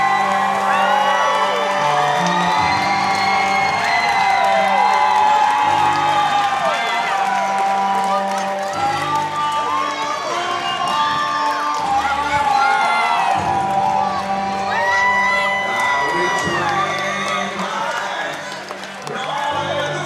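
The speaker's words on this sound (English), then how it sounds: "And here goes the crowd." Loud, sustained crowd roar at an MMA fight night, thick with cheering, whoops and shouts that swell and surge throughout without letting up.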